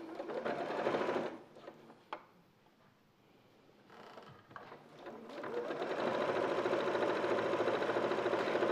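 Sewing machine stitching down a shirt placket, running in a steady buzzing burst, pausing briefly with a few clicks, then resuming in a longer continuous run to the end, close and moderately loud.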